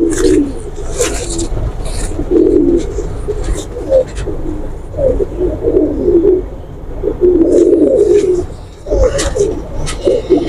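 A red pigeon being handled gives repeated low, throaty coos in short bursts close to the microphone, with wing flutters and someone talking in between.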